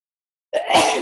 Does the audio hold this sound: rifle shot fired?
no